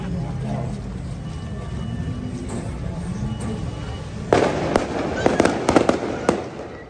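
Fireworks crack and pop during the Our Lady of Lourdes feast day procession at the national shrine in Quezon City, several sharp bursts in quick succession after a stretch of crowd murmur, with people talking nearby.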